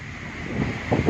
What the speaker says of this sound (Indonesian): Ombaknya deras sekali teman-teman. Angin pun kencang